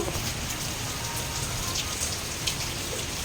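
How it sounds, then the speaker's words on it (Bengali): Dense, steady downpour drumming on surfaces, a constant broadband hiss of heavy rain with scattered louder drops, close and unbroken throughout. "বাইরে প্রচণ্ড পরিমাণে বৃষ্টি হচ্ছে দেখেছ"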